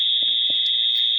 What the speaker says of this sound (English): the fire alarms keep going off even though they tell us that we don't need to leave